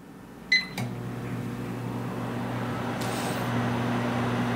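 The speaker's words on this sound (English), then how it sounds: "The microwave sounds completely normal." A microwave oven powered through an OUKITEL P2001 power station inverter starts with a beep and a click, then settles into a steady low mechanical hum with fan whir, running close and continuous.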